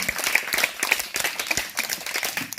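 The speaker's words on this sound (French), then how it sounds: "Donc on acclame encore pour Papa Dieu" A church congregation applauding, with dense, steady clapping that carries evenly across the whole stretch, a crowd sound from many hands with no single voice standing out.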